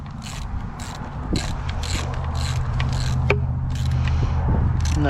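Ratchet clicking steadily while snugging a part on a Yamaha outboard engine during a fuel injector replacement, a run of close, rapid ratcheting strokes over a constant low hum.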